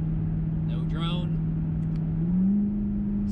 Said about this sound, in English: Yes, I can hear the exhaust that it's loud, but there's no drone going on.